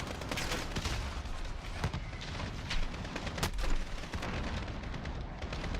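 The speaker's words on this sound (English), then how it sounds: "Use up all my grenades." Grenade explosions and gunfire in the video game Modern Warfare (2019), a loud continuous barrage of booms and shots with no break.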